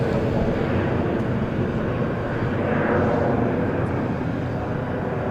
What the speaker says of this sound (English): Beautiful departure on the Easy.